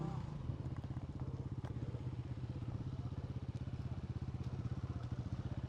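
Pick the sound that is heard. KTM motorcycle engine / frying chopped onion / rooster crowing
KTM motorcycle engine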